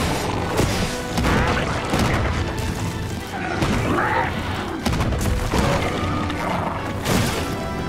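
Gunlance attacks from Monster Hunter Wilds hit as dense, repeated booming impacts and crashing blasts, loud and continuous across the stretch, with metallic thwacks and short bursts layered together.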